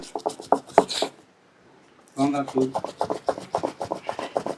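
Ginger chutney being ground by hand on a stone grinder, a rhythmic scraping rasp in quick repeated strokes, pausing briefly before resuming at a steady pace.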